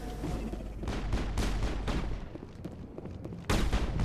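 Continuous heavy gunfire in Mass Effect, dense booming shots and bursts close and loud throughout, with a sharp fresh volley near the end.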